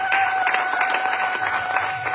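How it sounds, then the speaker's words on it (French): A church congregation claps for the Lord during a sermon, a dense steady wash of many hands at close range, with a sustained tone running underneath. "Applaudissez 3 fois le Seigneur de gloire"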